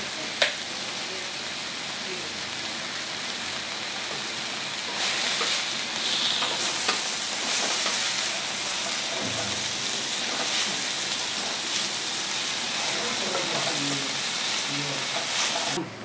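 Fenugreek leaves (methi bhaji) are sautéed in a pan, giving a steady, dense sizzle like light rain that holds throughout with occasional stirring scrapes.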